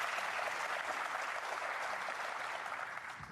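A snooker crowd in Riyadh claps steadily for a few seconds in appreciation of a delicate shot, a dense even patter of applause tapering slightly at the end.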